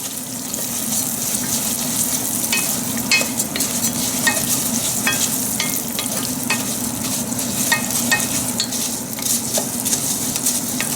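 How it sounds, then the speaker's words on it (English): Rice toasting in hot oil in a pan, a steady dense sizzle and crackle, with stirring scrapes and clicks from a utensil, continuous and fairly loud throughout. "So the oil is hot enough, so we'll put the rice in now, and we'll cook it for about 5 minutes."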